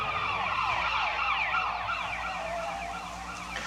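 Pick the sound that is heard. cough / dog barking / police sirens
police sirens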